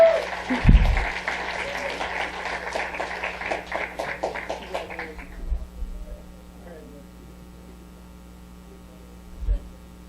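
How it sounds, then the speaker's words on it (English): An audience at an awards ceremony applauds warmly as winners walk up to the stage. The clapping is dense and steady, then fades away, leaving a low electrical hum and a couple of faint thumps. "they get all this applause while they walk up here nice and slow"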